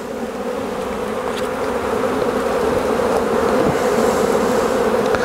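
Honey bees buzz densely around an open hive frame pulled for a disease and wax moth inspection, a loud, steady, close swarm drone that swells slightly and continues without pause.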